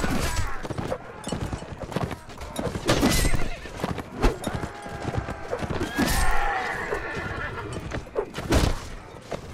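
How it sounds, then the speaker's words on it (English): Horses neighing and galloping in a medieval battle game, loud whinnies over rapid clip-clop hoofbeats with clashing impacts throughout a busy combat scene, close and continuous. "There goes the horse."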